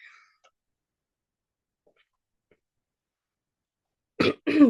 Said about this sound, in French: m'excuserez si je me racle la gorge